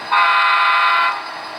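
A single loud blast from a model train horn on a switching layout, held for about a second, then cutting off.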